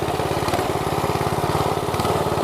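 A mini bike's small engine revs hard with a steady, rapid buzzing pulse while its tire spins, loud and close throughout.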